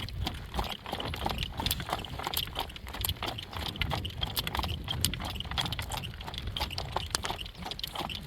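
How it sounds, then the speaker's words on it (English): A horse at a slow trot during a long drive, with steady rhythmic clip-clop hoofbeats and a faint jangle of harness, continuous and close throughout. "Slow trot."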